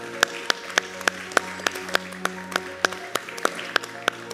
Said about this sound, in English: Let's give them all a hand of applause.